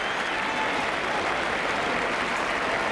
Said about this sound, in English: a standing ovation for this young player who's having a magnificent season